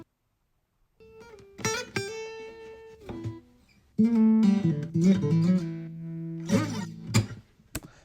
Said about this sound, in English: played this on my nylon string guitar